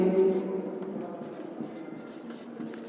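Marker or chalk scratching on a board during a math lecture on 3D straight lines, a steady close scraping stroke running under the lecturer's voice.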